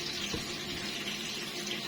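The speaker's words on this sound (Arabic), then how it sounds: "انا باخد شويه ميه من هنا كده وتسقسقي السمكه كده" Tap water runs steadily into a sink for a few seconds, a continuous close splashing hiss, drawn by hand to sprinkle over fish being prepared for frying.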